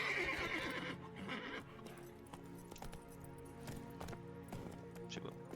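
A horse in The Witcher 3 whinnies loudly at the start, then its hooves clip-clop in a steady rhythm under game ambience and a soft metallic jingle of tack, fairly near and clear.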